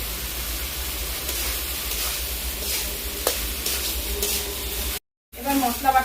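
Spices and vegetables for Bengali sukto simmer in a pan with a little water and salt, giving a steady broadband sizzle and stirring hiss that runs continuously, cuts out briefly near the end, then returns with clatter.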